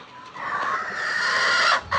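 Country chickens on a natural-method farm, with a rooster letting out a long, loud, drawn-out call close by that rises and holds before cutting off, followed by a short clucking burst, with no talking.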